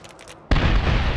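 A grenade goes off in Medal of Honor (2010) gameplay, a sudden loud blast that sets off a dense rumbling roar of explosion and gunfire, following a short stretch of quieter background sound.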